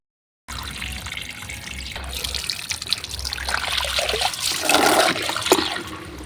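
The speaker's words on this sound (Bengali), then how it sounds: "দেখো এখন আমি জল নিচ্ছি" Water pours from a tap while being collected, a steady running trickle that swells louder toward the end, with a loudspeaker playing faintly somewhere around and no talking.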